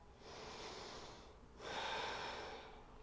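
Two slow, deep breaths, a long inhale then a fuller exhale, taken near and soft during a yoga heart-opening pose, with no talking.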